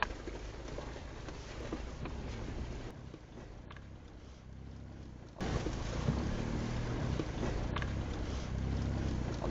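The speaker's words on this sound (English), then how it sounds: "you guys ready for a motorboat ride?" Motorboat ride on water with a steady engine drone and rushing wind and water noise close by, the roar rising in level about halfway through.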